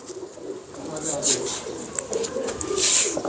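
Shah Sire pigeons give low, repeated coos close by, with faint chirpy notes and a little background voice mixed in.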